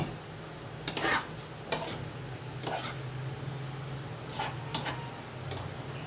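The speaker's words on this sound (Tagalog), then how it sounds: "So yan, haluin muna natin to" A spoon stirs vegetables in a cooking pot, scraping and clinking against the metal in a few scattered, fairly quiet bursts over a soft background hiss.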